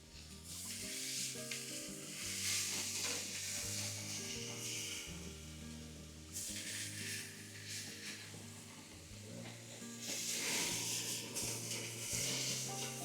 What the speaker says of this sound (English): The flame will just help sear the meat, keep all the juices inside.